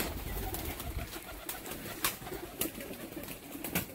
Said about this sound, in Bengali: বাজির পায়রা।